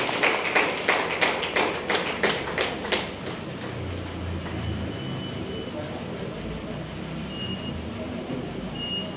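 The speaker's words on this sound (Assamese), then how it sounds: "হাত চাপৰি বজাই দিলে ভাল লাগিব" A few seconds of rhythmic clapping from an audience at a public meeting in the Naharkatia digital library, the claps evenly spaced and fairly close. They die away after about three seconds, leaving low room murmur and hum.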